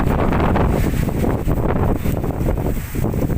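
Strong wind outdoors buffets the microphone with a loud, continuous roar that surges and dips slightly, with no voices heard.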